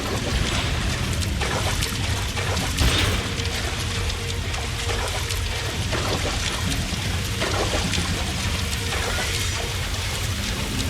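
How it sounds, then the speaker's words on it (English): Steady rushing water pours and churns in the video game L.A. Noire as the level rises, a loud continuous wash with a few deeper thuds, alone without talk. "The water's rising."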